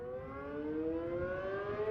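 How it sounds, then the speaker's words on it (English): Storm warning sirens wailing in a steady, slowly rising tone that holds loud and continuous throughout, with no other sounds. "the sirens"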